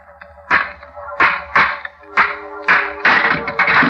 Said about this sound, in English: Smashed the lock.